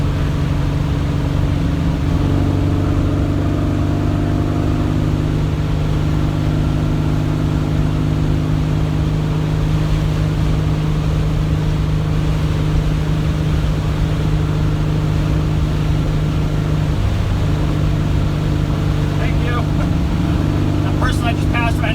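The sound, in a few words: Volkswagen car driving at 60 mph in fourth gear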